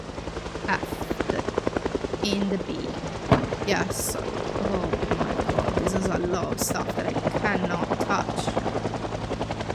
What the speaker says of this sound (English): the helicopter is literally giving away my position